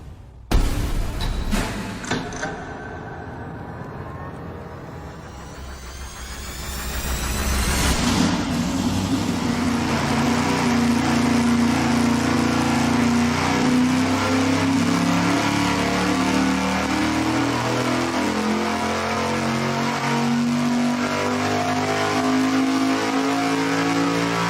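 A big eight-cylinder engine fitted with short intake stacks fires up on a dyno, cranking briefly before catching, then pulls with a loud, steady roar that climbs in pitch as it revs hard and holds near full throttle.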